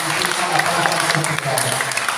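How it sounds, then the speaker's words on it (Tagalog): Congregation clapping for the Lord during a Sunday church service, a steady dense wash of hands with voices and tonal sounds underneath throughout. "Palakpakan na Panginoon."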